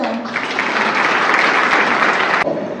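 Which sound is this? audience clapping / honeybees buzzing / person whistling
audience clapping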